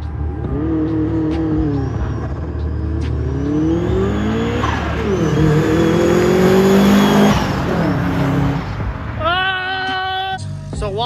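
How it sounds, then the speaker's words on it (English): A Subaru fitted with an Evo front end drives and accelerates hard, engine revving loudly with rising and falling pitch sweeps and some tire noise, strong and close throughout. "So Wally went on the first straightaway and took a couple rips right here"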